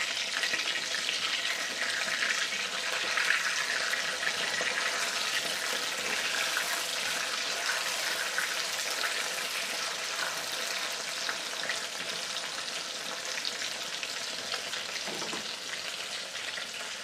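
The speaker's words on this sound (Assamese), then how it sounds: "এতিয়া বাকী পকৰিখিনিও এনেকৈয়ে ভাজি যাম" Soya pakoras deep frying in hot oil, a steady dense sizzle with fine crackling that holds close and even throughout, with no voices.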